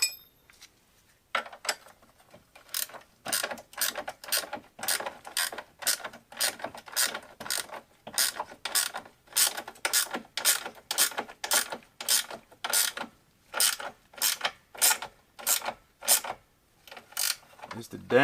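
A wrench ratchets on a front A-arm bolt of a 2006 Polaris Sportsman 700 ATV, rapid metallic clicking bursts in a steady rhythm of repeated strokes with short pauses, close and clear, no voices.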